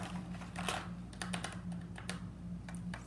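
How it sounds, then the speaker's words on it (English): Mechanical keyboard keys clacking in quick, irregular bursts of typing, close up, over a steady low hum in an otherwise quiet room. "So this is my mechanical keyboard."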